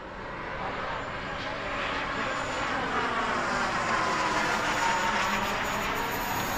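A jet aircraft comes in to land at the Bomber Field Jet Rally airshow, its continuous engine roar slowly building in loudness and staying close and steady throughout.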